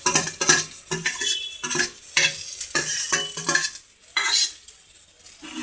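Potatoes being stirred and tossed with spices in a hot pan for Gujarati batata bhungla, with repeated scraping and clattering strokes over a soft sizzle, close and fairly loud, no talking.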